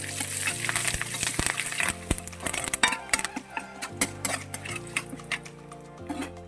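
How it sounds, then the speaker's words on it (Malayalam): Curry leaves dropped into hot oil and stirred in a pan while making a Kerala sardine pickle, giving a steady close sizzle and crackle with scattered sharp pops and scraping stir strokes. "കരിവേപ്പില ഇട്ട് കൊടുത്തിട്ട് നമുക്കൊന്ന് ഇളക്കി കൊടുക്കാം"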